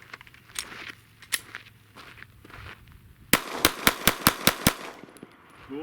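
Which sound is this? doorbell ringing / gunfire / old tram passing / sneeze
gunfire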